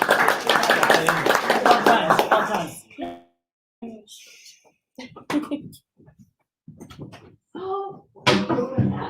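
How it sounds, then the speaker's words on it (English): Audience applause for Team Vodka Interactive at the EIA Competition 2020, a burst of dense clapping for about three seconds that stops abruptly, followed by quieter scattered sounds and people talking. "a round of applause for Team Vodka Interactive"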